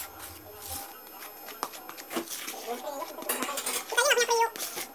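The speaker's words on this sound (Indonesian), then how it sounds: "Lalu kita aduk-aduk semua bahan ini hingga tercampur rata." A utensil scrapes and clinks against a bowl while strawberry-cheese thumbprint cookie dough ingredients are stirred together, with irregular knocks building toward the end.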